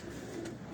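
A pigeon coos once, a brief, soft, low murmur heard faintly and alone against quiet background.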